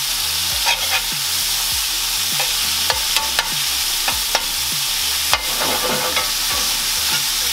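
Beef hash crackles in butter in a pan just after being flipped: a dense, close sizzle punctuated by sharp scraping taps of a spatula at irregular intervals.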